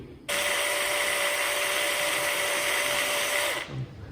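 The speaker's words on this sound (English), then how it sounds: "Now you drill carefully 8mm hole" A power drill whines at a steady high pitch for about three seconds, close and loud, drilling an 8mm hole in the fuel pump cover of a 2019 KTM 690 tank, then cuts off abruptly.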